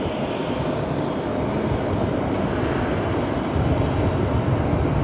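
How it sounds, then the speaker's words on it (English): An Emirates Airbus A380 airliner on approach to Sydney Airport gives a steady, broad jet roar that holds without a break, with a faint high whine over it and a slight swell toward the end. "just on screen now, we've got the Emirates 380, Nige, the one that you mentioned."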